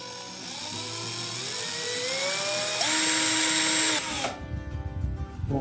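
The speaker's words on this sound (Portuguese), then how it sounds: "de parafusar, de furar sem impacto e perfurar com impacto" A cordless battery drill driver with a speed-control trigger whirs loudly and alone, its motor pitch climbing in steps as the trigger is squeezed harder, then cutting off and winding down.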